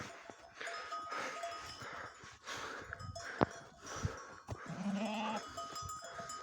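A lamb bleats for its mother a few times, thin and wavering, with rustling and clanking farm noises around it and no talking.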